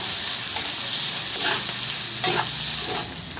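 Onion fries in hot oil while being stirred for a desi chicken dish: a steady, bright sizzle runs throughout, broken by several short scraping stir strokes at roughly regular intervals.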